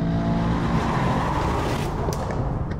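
A Mercedes-AMG E63 S engine rumbles and roars loudly, a deep growling tone rising slightly as it revs, heard alone and close.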